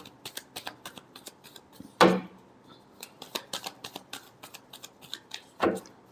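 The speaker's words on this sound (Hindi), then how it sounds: "Last shuffle." Tarot cards are shuffled by hand in quick papery riffles and taps, close and fairly quiet, with two louder sharp riffle bursts standing out among the lighter flicks.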